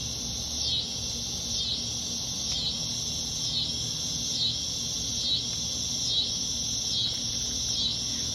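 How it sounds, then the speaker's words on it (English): A loud, pulsing drone of cicadas buzzing in repeated waves, close and continuous, with no voices over it. "those dang on cicadas. Can y'all hear that? Those are called cicadas."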